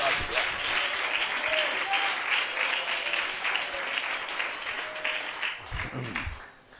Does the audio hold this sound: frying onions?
no